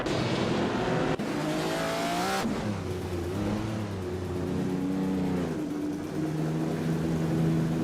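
Race cars, including Ferrari 250 Testarossas, in a video game, their engines revving and shifting up and down through the gears, with a sharp transition partway through and steady, loud engine noise.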